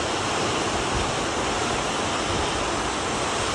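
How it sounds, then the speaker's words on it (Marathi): Heavy rain pours down steadily over farm fields that are flooded with water, a dense, continuous roar that stays loud and unbroken from start to finish, with no voices. "इतकं जोरात पाऊस झाला होता"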